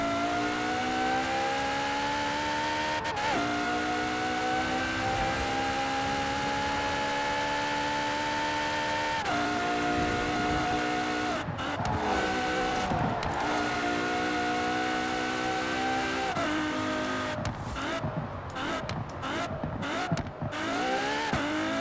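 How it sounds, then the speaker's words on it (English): A Ferrari FXX race car engine in Forza Horizon 4 screams at full throttle, pitch climbing through several gear shifts with brief dips between, loud and continuous. "we'll go flat out to last gear with just the exhaust sound"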